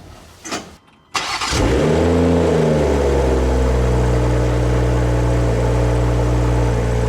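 A BMW X3 M40i fitted with a CSZ exhaust starts up with a short crank, then its engine roars close by and holds a loud, steady rev for several seconds.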